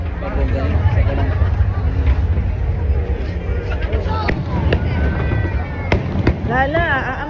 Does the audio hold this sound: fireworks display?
yes